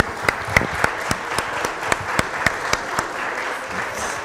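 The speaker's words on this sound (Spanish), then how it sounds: "Démosle un fuerte aplauso tanto a Randy como a Olman." A small audience applauds at an AI talk, with distinct, evenly spaced individual claps over a soft background of lighter clapping that fades near the end.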